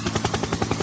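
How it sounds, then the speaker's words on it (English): A helicopter's rotor thumps in a fast, steady chop, fairly close and moderately loud, with no talk over the brief burst. "Helicopter."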